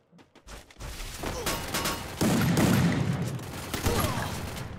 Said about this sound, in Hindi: भाई भाई मैं ग्रेनेड छोड़ चुका हूँ